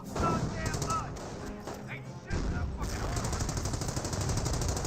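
Dense, continuous gunfire in the World War II strategy game Company of Heroes, with rapid machine gun bursts and heavier autocannon thumps overlapping in a loud, busy battle din, with a voice talking over part of it.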